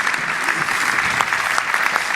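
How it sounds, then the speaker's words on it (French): An audience claps for student performers at a theatre season presentation, a dense, steady wash of applause from a full room with no break. "Donc applaudissez-les."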